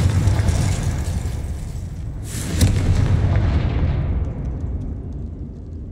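A Confringo fire spell from Hogwarts Legacy bursts with a loud, rumbling explosion. A second sharp blast hits midway, then the roar fades into a long, decaying rumble.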